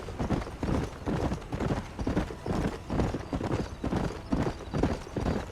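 Horse galloping in the video game Red Dead Redemption, hooves clopping in a steady fast rhythm close by, with faint snorting and no speech over it.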